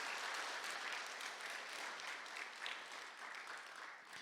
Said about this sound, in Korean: 다시 한번 우리 하나님 앞에 영광의 박수 돌리겠습니다